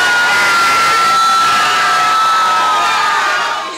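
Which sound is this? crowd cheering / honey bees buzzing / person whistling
crowd cheering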